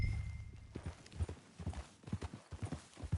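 Horse hooves clip-clop steadily in the video game Red Dead Redemption 2, a brisk, close, even rhythm of thuds heading into the town of Blackwater, with no talking.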